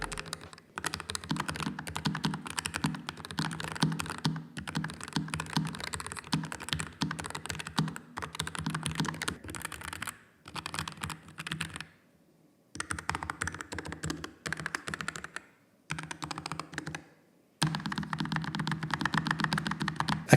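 Keys clack steadily on a low-profile keyboard with a slightly hollow, rattly tone, in bursts separated by short silent pauses.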